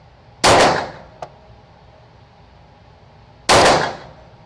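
Two loud, sharp gunshots from a Smith & Wesson M&P 9 Shield EZ pistol at a shooting range, roughly three seconds apart, each with a booming echoing tail, plus a small metallic clink between them.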